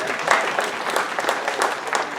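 Audience applause at a community meeting on crime statistics, a steady close wash of many hands clapping for about two seconds with no voices over it.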